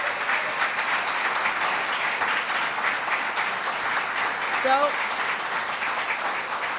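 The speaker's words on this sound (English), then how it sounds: "Let's give that a round of applause" An audience applauds at an outdoor announcement celebrating Jones Beach's 95th anniversary, a dense continuous patter of clapping throughout, with a voice briefly speaking over it partway through.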